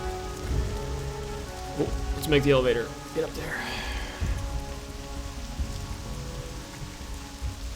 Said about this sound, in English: And as you can see, it's all of a sudden raining.